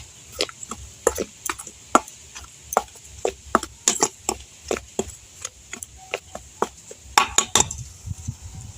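Papri dough ingredients, including flour and rubbed ajwain, are mixed in a bowl with a steady run of sharp taps and clinks of a utensil against the bowl, fairly close and repeating at a brisk, uneven rhythm.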